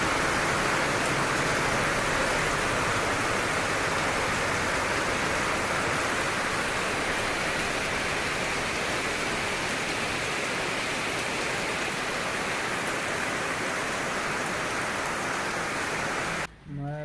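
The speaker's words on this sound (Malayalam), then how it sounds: "അപ്പോൾ നല്ല മഴയാണ്." Heavy rain pours down steadily in a broad, even hiss that runs unbroken for a long stretch and cuts off abruptly at the very end.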